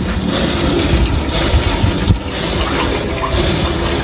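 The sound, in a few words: water flowing through a cold plunge chiller filter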